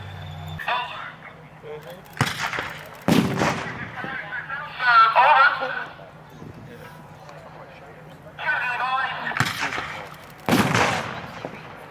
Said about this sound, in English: Long-range artillery coming in on the machine gun position. That was the first ranging shot.